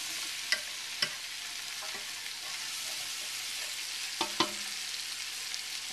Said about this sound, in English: I'm going to fry these ingredients for several minutes until the potatoes begin to get a little bit softer